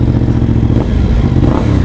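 A 1200 cc X-Cape motorcycle engine runs loud and close, its rough idle rumbling and surging in quick revs.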